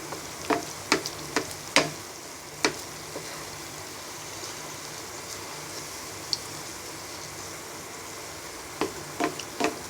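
A Bangladeshi dal puri, puffed up and browning in hot oil, gives a steady soft frying sizzle throughout, broken by a few sharp spattering crackles and utensil taps, with no voices.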